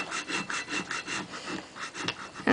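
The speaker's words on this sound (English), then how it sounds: "you want to push it down, because now you want the black vinyl to stick down onto it" Black vinyl stencil is rubbed down hard onto glass in a run of rhythmic scraping strokes, about a dozen close swipes, with a sharper scrape at the very end.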